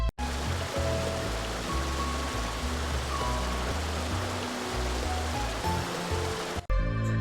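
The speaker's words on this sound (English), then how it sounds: "you have your own private little waterfall here, and I mean the noise from it is also just fantastic" A small private waterfall beside a little bridge at a Shirogane house in Final Fantasy XIV pours in a constant rushing splash, close and full, with soft tonal game music underneath before cutting off near the end.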